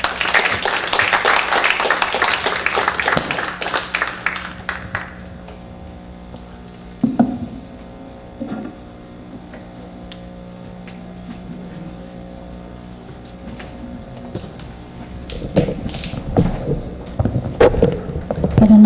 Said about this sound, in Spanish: La presentamos al ingeniero con un fuerte aplauso